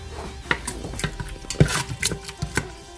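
A spoon stirring a butter chicken mixture inside an Instant Pot, with irregular scraping and clinking against the metal insert, a sharper knock midway, close and without talk.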